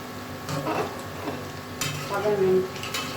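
Beef mince koftas browning slowly in a pan over low heat, a soft sizzle with a few stirring and utensil scrapes, close by, no talk.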